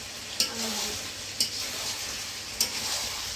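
Meat sautéed dry in a pan over a clay-pipe wood stove gives a constant sizzle, punctuated by three sharp metallic clinks of a spatula against the pan.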